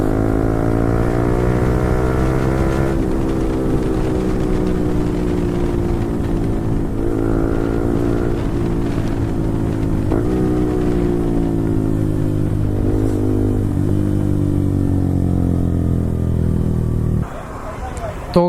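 A Yamaha R15 V4 fitted with an Akrapovic exhaust drones loudly and steadily while riding, with engine pitch stepping down through several downshifts and a sudden drop near the end, a faint murmur of voices beneath.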